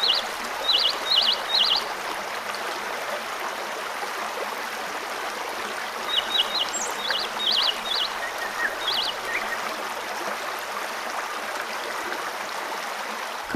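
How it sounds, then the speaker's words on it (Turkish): White waterfalls swollen with snowmelt rush in the snowy mountains of Giresun's highlands, a steady broad roar of water with short bird calls chirping over it. "Yükseklere çıktıkça karların erimesiyle coşan bembeyaz şelaleler, karlı dağlar dikkatimizi çekiyor."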